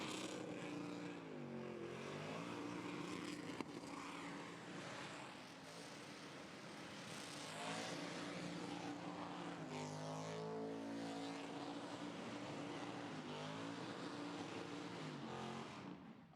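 A car performs a burnout on a burnout pad at the Burnanza event, engine screaming loud and sustained at high revs with shifting pitch for the whole stretch, crowd and arena noise mixed beneath.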